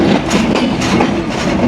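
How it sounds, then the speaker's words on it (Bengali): Kapotaksha Express train pulling out of Jessore Junction, a loud, steady rumble of wheels and cars with rhythmic clickety-clack beats repeating close by across the whole stretch. "কপোতাক্ষ এক্সপ্রেস ট্রেনটি যশোর জংশন ছেড়ে দিল"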